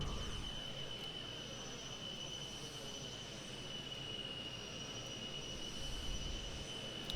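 Tu-134A-3 jet airliner engines in the Prepar3D flight simulator, a steady droning roar with a high whine held over it, unbroken and even for the whole stretch.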